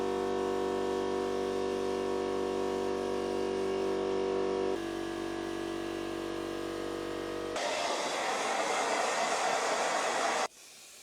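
A spray gun priming a fuse board runs as a loud steady hiss with a strong mechanical hum that shifts pitch midway, then turns to a brighter, airier spray before cutting off abruptly near the end.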